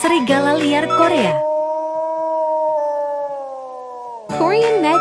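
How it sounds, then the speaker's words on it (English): A Korean wild wolf gives one long, steady howl that holds a level pitch for about three seconds and then fades, with short bursts of other sound just before and after it. "Korean wild wolf."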